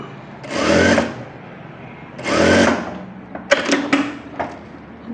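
A sewing machine stitches a folded buff sleeve in two rising-and-falling runs of rapid mechanical whirring, then a few short clattering stitches, close and clear with no talk.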